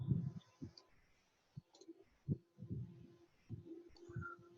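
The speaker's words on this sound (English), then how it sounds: "click on the screen" Soft, sparse mouse clicks while working on screen in Solid Edge CAD software, a handful of quiet isolated taps spaced irregularly against a faint background hum.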